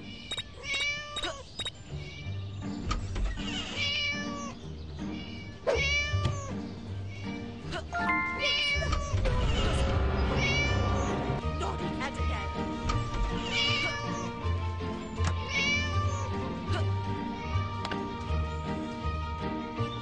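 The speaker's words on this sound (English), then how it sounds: "Naughty cat just vanished." Cartoonish cat meows and yowls from the Scary Teacher 3D video game repeat in short bursts over game music and effects, with character voice lines mixed in.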